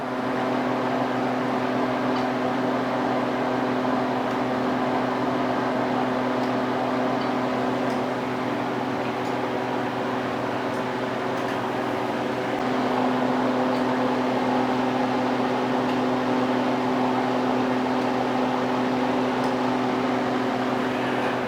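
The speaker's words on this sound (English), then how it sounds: "So let's go ahead and turn on the vacuum" Harvest Right freeze dryer vacuum pump running, a constant loud mechanical hum with steady low tones and broadband whir, unchanging for over twenty seconds with no voices.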